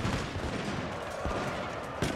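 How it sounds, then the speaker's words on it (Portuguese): Dense, rapid gunfire crackles nonstop in a chaotic battle in the video game Shogun 2: Total War, shots overlapping with occasional louder bursts. "Os tiros passando pelos vãos."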